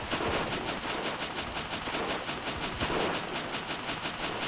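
Machine-gun fire in the World War I game Battle of Empires 1914-1918, in fast continuous bursts that stay loud and close for the whole stretch with no talk over it.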